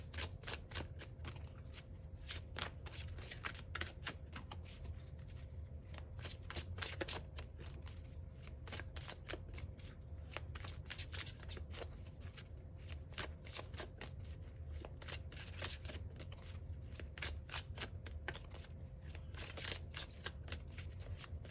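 Oracle cards are shuffled by hand close up, giving a steady, quiet stream of soft riffling and flicking taps that runs throughout with no voice.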